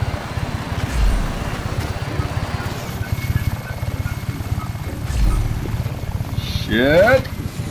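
A game helicopter's rotor chops in a steady rapid pulse throughout, close and loud, with a brief chirpy game sound near the end.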